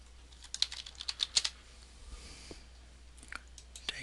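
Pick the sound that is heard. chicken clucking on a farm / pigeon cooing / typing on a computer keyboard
typing on a computer keyboard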